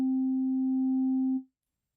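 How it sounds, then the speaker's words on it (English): Pure synthesizer sine tone with level 1 distortion, a steady low hum with a faint added harmonic, sustained evenly for over a second before cutting off abruptly into silence. "This is the sine wave with level 1 distortion."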